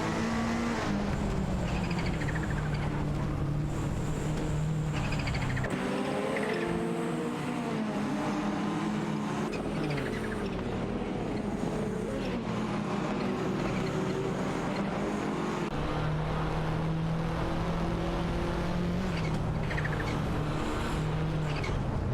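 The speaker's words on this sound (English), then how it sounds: "A tight battle between the Alfa Romeo 75 and the Porsche 944 Turbo for that position" Porsche 944 Turbo and Alfa Romeo 75 racing in an AI-driven video game race, engines droning and revving continuously with shifting pitch as the cars duel closely, loud and steady throughout.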